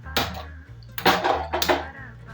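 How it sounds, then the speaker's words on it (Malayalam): A clay cooking pot is set onto a stove fire in a Kerala home kitchen while making catfish curry: three close, hollow knocks and scrapes of earthenware, spaced about half a second apart over a low steady hum. "നമുക്ക് തീ എത്തിച്ച് ചട്ടി കൊണ്ട് വയ്ക്കും"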